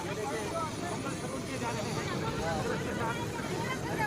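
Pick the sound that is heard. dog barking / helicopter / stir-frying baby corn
helicopter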